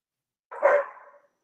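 A single dog bark at home, close and fairly loud, with one sharp burst that trails off over about half a second. No voices around it.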